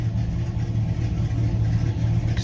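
A Chevrolet Camaro 2SS with an LS3 V8 and a newly fitted aftermarket exhaust rumbles steadily and close by, a deep, continuous engine drone holding at a constant pitch with no voices.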